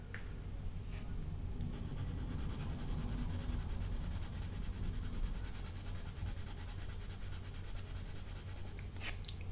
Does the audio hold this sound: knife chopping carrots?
no